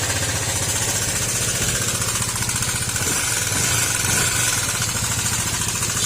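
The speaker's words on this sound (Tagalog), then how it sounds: "Sobrang ingay nung makina, lakas malagtik." A car engine with a rebuilt head and aftermarket liners runs noisily at idle, giving a loud, fast, continuous ticking and clattering over a steady mechanical drone, heard close up with no talking.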